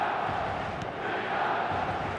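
Stadium crowd in an eFootball match on PS5, a steady roaring wall of fans chanting and cheering at a distance, sustained and even throughout.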